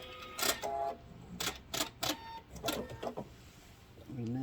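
A sewing machine stitching along the edge of a fabric grocery bag, short bursts of rapid mechanical whirring with pauses between, close and moderately quiet, with a whine rising at the end.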